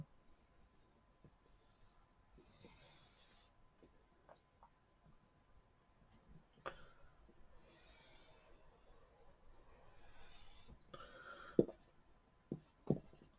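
A pen draws a graph on paper while working an A-level maths problem, with quiet intermittent scratching strokes and taps close up in a hushed room, no talking.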